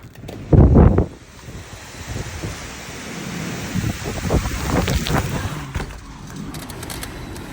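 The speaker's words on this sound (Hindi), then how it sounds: "इस वक्त बहुत ख़तरनाक किस्म की तेज़ हवाएं चल रही हैं।" Strong hurricane winds at night during Hurricane Beryl roar and gust in broad, noisy rushes with microphone buffeting, one loud blast near the start, then a sustained turbulent howl.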